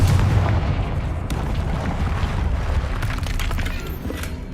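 A Confringo blasting spell explodes in Hogwarts Legacy, a muffled boom rolling under continuous rumbling combat noise, with a few sharper cracks scattered through.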